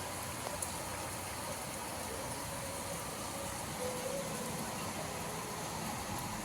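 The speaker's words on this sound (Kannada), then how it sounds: "ಇವತ್ತು ಹಾಸನಲ್ಲಿ ಬೆಳಗ್ಗೆನೇ ತುಂಬಾ ಮಳೆ ಬರ್ತಾಯಿದೆ" Heavy morning rain in Hassan pours down steadily, a dense, even hiss of falling water that holds at a constant level throughout with no voices over it.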